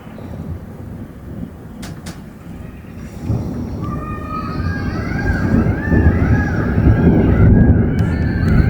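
Thunder rumbles low and continuously during a sunset thunderstorm in Bordeaux, building in loudness amid wind noise, while a faint warbling tone rises in the background.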